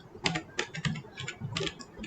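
Quick bursts of keystrokes on a computer keyboard while JavaScript code is typed, clustered clacks in uneven groups, close and fairly quiet, with no talking.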